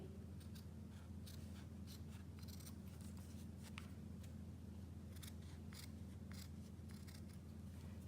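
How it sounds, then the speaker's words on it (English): Scissors make a series of small, close snips as a felt pad is trimmed for a wood flower corsage, with quiet irregular cuts over a low steady background hum. "So I am going to trim this just slightly."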